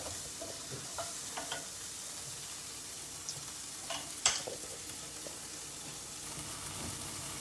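Vegetables being stir-fried in a pan give off a steady soft sizzle, broken by a few scraping stirs and one sharper clack near the middle.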